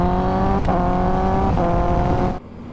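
Kawasaki ZX10R with an Austin Racing exhaust and quick shifter revs hard in a loud, sustained buzzing drone, briefly dipping twice as gears shift without pause, then cutting off abruptly near the end.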